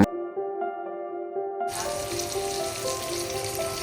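Chicken fry sizzling in a pan alongside a pot of chicken curry, a broad steady hiss that starts abruptly partway in over a faint tonal hum, loud and continuous to the end.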